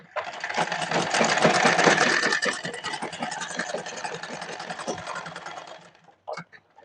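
A sewing machine runs a steady, fast rattling stitch for about six seconds while double stitching a blouse, then stops, followed by a couple of short handling knocks.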